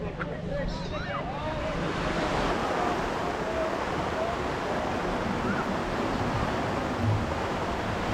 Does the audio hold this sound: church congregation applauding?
no